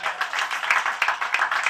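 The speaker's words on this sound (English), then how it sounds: "Don't clap too hard." Audience applause at a stand-up comedy show, a steady wash of many hands clapping with brief swells, fairly close and filling the room.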